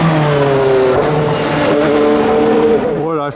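A vintage Ferrari 158 racing car engine at a Monterey motorsports event roars loudly and steadily, its pitch shifting up and down as it revs, with a voice faintly audible underneath.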